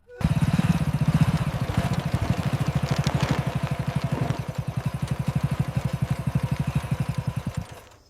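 A motorcycle engine idles close by, loud and steady, with a regular thumping pulse that runs the whole time and wavers slightly in pace.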